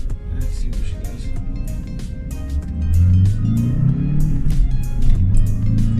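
A Vauxhall Vectra C, an older car, accelerating hard, its engine note a loud low rumble that rises and strengthens midway, heard from inside the car with road and cabin noise and no talking.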